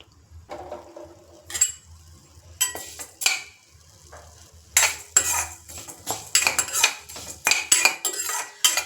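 Urad dal and spices fry in coconut oil for a temple-style Mangalore cucumber sambar, with a metal spoon scraping and clanking against the pan in bursts over a faint sizzle.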